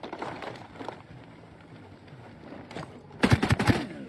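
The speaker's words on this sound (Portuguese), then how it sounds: "Os tiros deles são muito fortes." Rapid gunfire in the Zerotnt shooting game: after a stretch of low background game noise, a loud burst of several quick shots rattles out near the end.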